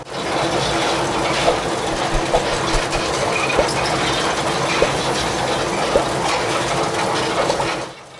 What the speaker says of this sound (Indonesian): Kita masih mengikuti perjalanan lokomotif ini ke arah selatan, ke jalur yang menuju ke arah Kencong ini.